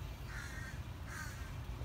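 A crow caws twice in a backyard tree near a squirrel's nest, the harsh calls moderately close and separated by a short pause over a steady low outdoor rumble.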